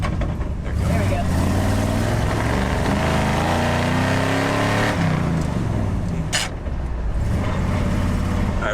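A car engine accelerates while driving in low gear, a loud continuous drone whose pitch climbs gradually over several seconds, with a brief sharp click near the end.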